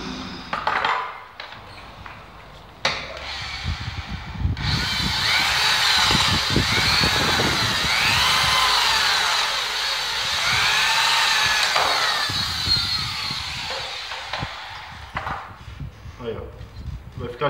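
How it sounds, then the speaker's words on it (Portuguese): An electric drill bores a hole into a Chevrolet Monza car door while a door handle is being replaced. A steady high whine runs for about eight seconds, with scraping and handling noises before and after it. "Fazer um furo com a furadeira para largar o buraco."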